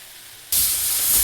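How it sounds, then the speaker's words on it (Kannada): A pressure cooker whistle bursts on halfway through, a loud sudden steam hiss that holds steady after a quiet start, with no speech. "ನೋಡಿ, ಇದು ಕುಕ್ಕರ್ ಸಿಟಿ ಕೂಗ್ತಾ ಇದೆ."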